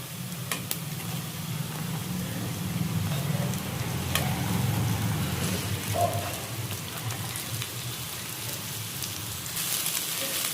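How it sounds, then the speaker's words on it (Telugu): Washed, sliced okra frying in oil in a pan for an Andhra-style tomato curry, a continuous rain-like sizzle with occasional stirring clinks, steady and close throughout, no talking. "ఇప్పుడు ఇందులో మనము కడిగి తూడ్చి కట్ చేసి పెట్టుకున్న బెండకాయలు వేసుకుందాం."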